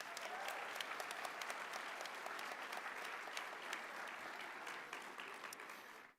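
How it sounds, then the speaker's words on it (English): An audience at a nursing college convocation applauds together, a dense, steady wash of clapping that holds for several seconds before cutting off abruptly. "would you please give her a round of applause?"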